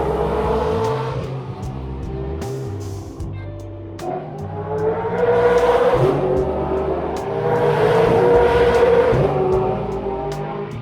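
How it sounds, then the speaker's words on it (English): V8 Supercar race engines at Bathurst roar and rise in pitch as they accelerate, echoing loudly with several cars revving over a rumbling background, no talk. "The screams of the V8 engines echoing through it though, that was cool"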